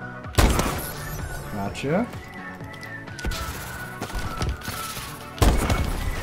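Gunfire from Call of Duty: Advanced Warfare in online multiplayer, loud sharp bursts and thumping shots with impact crashes, heard under excited player chatter.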